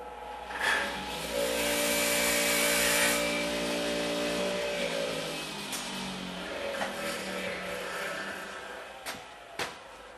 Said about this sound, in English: Take this over to the grinder and get a little bit of an edge on it.